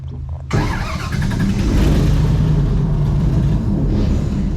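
An airboat engine on an Everglades tour at Gator Park kicks in abruptly and then roars loud and close, holding a steady, heavy rumble with no talk over it.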